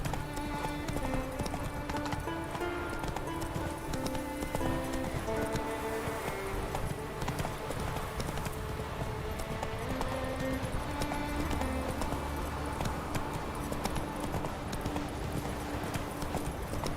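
Roach, the horse in The Witcher 3, galloping with rhythmic clip-clop hoofbeats over steady game music, continuous and close throughout.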